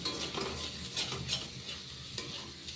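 Eggs with ginger and garlic fry in a pan, giving a steady close sizzle and hiss with a few soft stirring scrapes, no voices.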